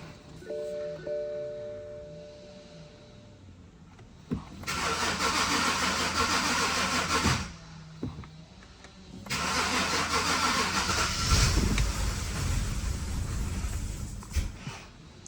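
A BMW 5 Series engine cranks and briefly catches twice, each loud burst of starter whir and rough running lasting a few seconds before dying out into near silence.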